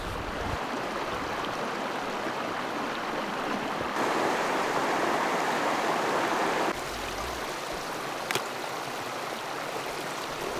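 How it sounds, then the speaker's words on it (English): A river flows steadily through desolate mountains, its broad, constant rushing close by and loud for the whole stretch, with a brief surge partway through and no voices. "Now going down and have a look at the river."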